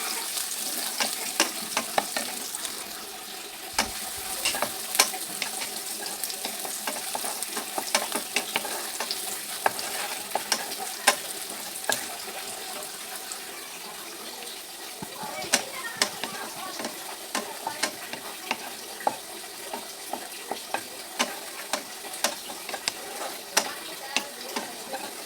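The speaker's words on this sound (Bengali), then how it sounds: "এখানে পেঁয়াজটাকে একটু ফোড়নি করে নেব" Onions frying to a golden brown beresta in hot oil, a steady crackling sizzle punctuated by frequent sharp clicks and scrapes of a spatula against the pan, close and continuous.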